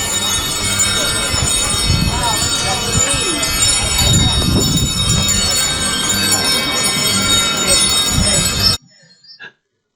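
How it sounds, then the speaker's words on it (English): Dense, shimmering chiming of countless metal wind chimes rings steadily in the town of Oatman, Arizona, with brief bell-like tones and background activity throughout before cutting off abruptly near the end. "The one thing there doesn't seem to be a shortage on in the town of Oatman is wind chimes."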